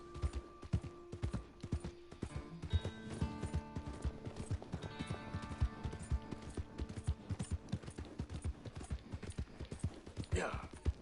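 Horse hooves trotting in a video game, a steady, rhythmic clip-clop throughout, fairly close and moderately loud, with a short whinny near the end.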